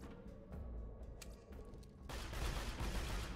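Gunfire from the video game Borderlands 2, a few sharp, loud shots in quick succession followed by a sustained burst of dense, noisy firing.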